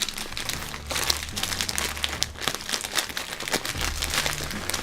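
Plastic packaging of a merch t-shirt crinkles and rustles steadily as it is handled and cut open with scissors, a close, continuous papery crackle with low handling thumps underneath.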